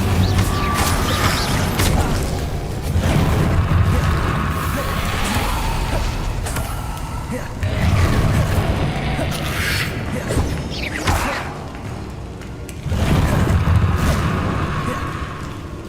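Spell effects from Hogwarts Legacy, including Incendio, burst in repeated mechanical whooshes and crashes. Bursts come in waves several seconds apart against a busy game backdrop.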